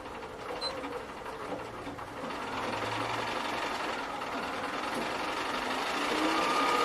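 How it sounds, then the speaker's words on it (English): A sewing machine runs continuously in reverse through fabric, a close, steady mechanical whirr that builds slightly louder toward the end, with no talking. "reverse sewing."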